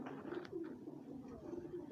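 Roughly a hundred pigeons cooing together in a low, continuous murmur, close and steady with overlapping soft calls throughout.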